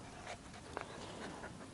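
Zippy, a pet dog, pants in quick, steady breaths, close by but faint, against low background noise with no talking.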